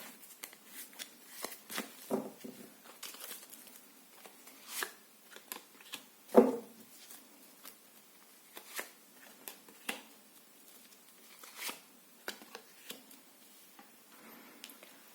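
Quiet riffling and soft snapping of tarot cards being shuffled in bursts, with one sharper slap midway; no talking.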